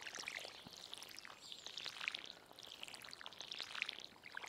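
Watering bean starters in Stardew Valley, a soft game sound of water sprinkling and pouring in swelling bursts, faint and alone over a steady hiss, with no talk.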